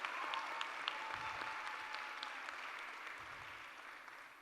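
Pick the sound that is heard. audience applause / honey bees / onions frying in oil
audience applause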